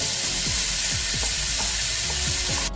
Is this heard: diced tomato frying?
yes